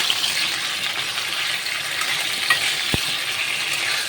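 Eggplant frying in a pan with garlic and kasuri methi, a steady close sizzle and crackle with one brief clink partway through.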